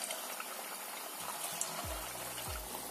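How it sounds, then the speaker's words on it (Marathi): Sabudana vadas dropped into hot oil in a kadhai sizzle and bubble steadily, with a few soft low thumps as pieces go in. "अशा प्रकारे 2 ते 3 वडे तेलामध्ये सोडायचे आहे"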